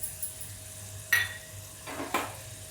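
Pea-filled matar karanji pastries frying in a pan, with a low steady sizzle of oil broken by two brief louder scrapes or clinks of a utensil, close and without talk.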